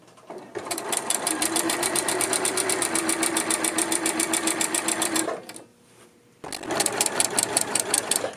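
A sewing machine stitches a folded fabric hem for a tunic in a steady, fast run of needle strokes, stops briefly near the end, then starts up again, loud and close.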